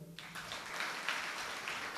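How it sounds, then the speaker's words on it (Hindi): Students applaud in a school classroom, a dense patter of many hands that starts abruptly and holds steady for a couple of seconds at moderate loudness. "इसके लिए ताली बजाओ।"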